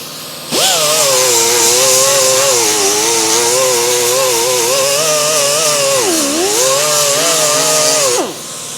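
A power sander driven with 80-grit sandpaper works over the dash of a 1932 Ford, a loud sustained whine with a wavering pitch that dips briefly before cutting off near the end.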